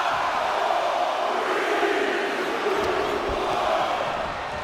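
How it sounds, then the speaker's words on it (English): Arena crowd in the WWE 2K25 video game counting down during a WarGames match, a dense, loud, steady roar of many voices that fills the whole stretch. "The crowd is counting it down."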